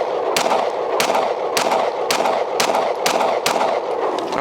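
Seven loud, sharp pistol shots from a Hellcat Pro Plus fitted with a Monsoon Tactical Hel port, fired close by at an even pace of roughly two per second.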